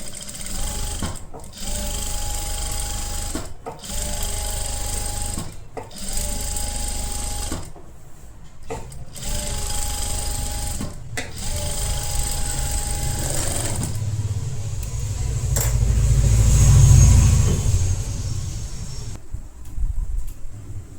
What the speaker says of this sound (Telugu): ఇక్కడ ఒక ఫ్లాట్ స్టిచ్ చేసేసుకోండి.